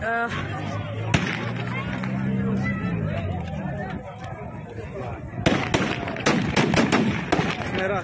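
Aerial gunfire crackles at Kabul airport as forces try to disperse a massive crowd, with sharp shots early and then a dense burst of repeated bangs near the end, over loud crowd noise and a talking voice.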